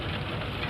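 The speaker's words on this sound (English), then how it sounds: "this engine is powering something going on inside that building" A stationary engine at an Illinois tractor show runs steadily to power threshing and milling machinery in a nearby building, giving a close, continuous low chugging rumble with no talk.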